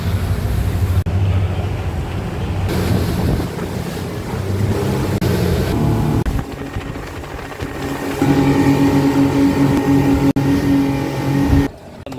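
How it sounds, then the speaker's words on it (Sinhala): Boat ride from Male to Maafushi island: a steady engine rumble blends with rushing waves and heavy wind buffeting the microphone, loud and continuous throughout, with no talking. "තාම බෝට්ටුවෙන් බැහැගස්සේ නැහැ"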